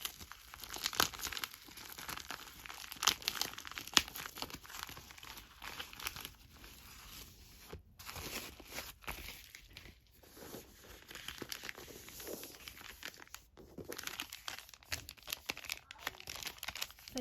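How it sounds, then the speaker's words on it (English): A paper envelope is opened indoors in a living room, giving long stretches of faint crinkling and rustling with occasional tearing, all fairly quiet and close. "we will go ahead and open this envelope that I got today"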